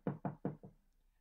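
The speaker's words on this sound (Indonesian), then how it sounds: "Mama mengetuk pintu." Four quick knocks rap on a bedroom door, close and fairly loud in a steady rhythm, the last one softer, followed by quiet.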